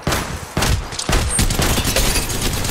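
Sustained video game gunfire in Apex Legends Mobile, a dense, loud barrage of overlapping shots with sharp bursts at the start and near one second, then continuous rattling fire to the end.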